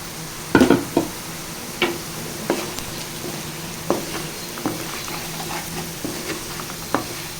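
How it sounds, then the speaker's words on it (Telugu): Raw sesame seeds, peanuts and masala frying in hot oil for a Telangana-style bitter gourd fry: a close, steady sizzle with repeated sharp scrapes and clinks of a spoon stirring the pan, no speech. "ఇప్పుడు ఇది ఈ నూనెలో ఫ్రై చేసుకోవాలండి"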